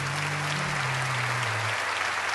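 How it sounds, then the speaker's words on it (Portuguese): An audience at a Catholic priest's lecture breaks into dense, continuous applause, loud and even throughout, with a low sustained tone running beneath it in the first part. "Pode aplaudir para valer, meu irmão."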